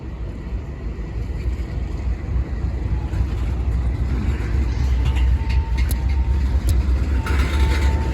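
Train rumbling steadily past a level crossing, a continuous loud roar of rail wagons with occasional metallic squeals and clanks, no voices.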